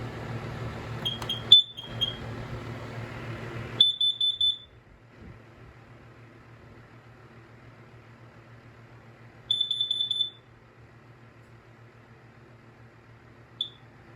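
Several brief, shrill smoke-alarm chirps from a tested unit in a collection of alarms sound in short bursts, separated by quiet gaps and a steady low hum, with one final short beep.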